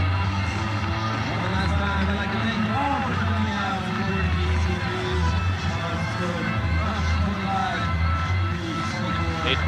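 A big crowd cheers and chatters steadily after a double-overtime ultimate frisbee win by the Toronto Rush, with a dense, continuous murmur of voices and scattered whoops throughout.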